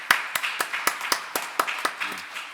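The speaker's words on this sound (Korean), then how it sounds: "여러분 우리 김 권사님 박수로 또 한번 환영해 주시고" A church congregation claps during a Sunday worship service, about a dozen sharp, evenly spaced hand claps in a steady rhythm, fairly close and clear, with no talking over them.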